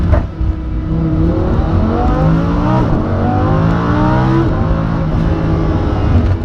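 A Lamborghini Huracan in Corsa mode accelerates hard, its engine roaring loud and close with rising and falling gear-change sweeps for several seconds.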